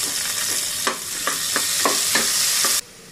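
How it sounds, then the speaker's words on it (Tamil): Onions and curry leaves sautéing in hot oil with fennel and cinnamon for hotel-style chicken salna: a constant bright sizzle broken by regular scraping stirs of a spoon, about one every half second. "வெங்காயம் போட்டுக்கலாம். அதிலே கருவேப்பிலை போட்டுக்கலாம். வெங்காயம் நல்லா வதங்கணும்"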